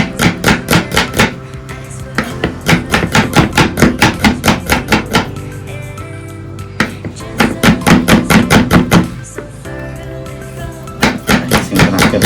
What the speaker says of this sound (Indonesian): langsung aja bawang putih diiris-iris kayak ini